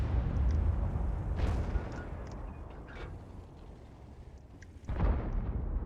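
M48 tank gun firing in World of Tanks, a heavy booming shot with a rumbling tail, followed a few seconds later by another loud blast over steady engine drone.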